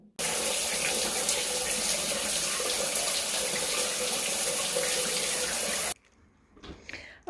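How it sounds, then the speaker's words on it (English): A shower runs in a steady, full rush of water for about six seconds, close and unbroken. It then cuts off abruptly, leaving faint drips and small movements. "let me get into the shower"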